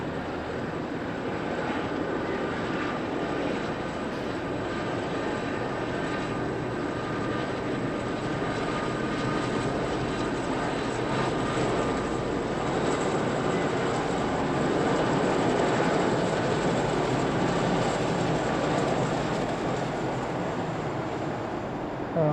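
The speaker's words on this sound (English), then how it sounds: "That's two lots of two Chinooks" Two pairs of Chinook helicopters fly past near an airport in Okinawa, a broad, steady rotor and engine roar that holds at fairly even loudness, swelling slightly midway.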